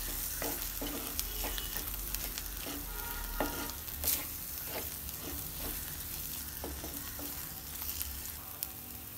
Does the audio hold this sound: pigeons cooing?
no